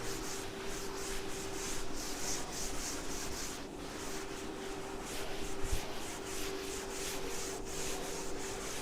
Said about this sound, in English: Okay, so I'm rubbing this part of the board.